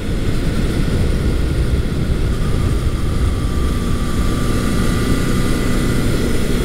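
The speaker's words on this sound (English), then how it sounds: "Engine is pulling cleanly." Honda CB750 motorcycle engine running while riding, a steady, loud droning hum with a constant low rumble and wind noise throughout, no talking and no clear change in revs.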